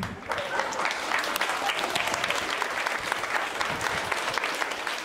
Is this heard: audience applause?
yes